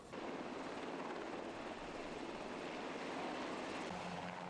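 A Surion military utility helicopter runs with a steady, distant engine drone and rotor wash, holding an even, faint level throughout.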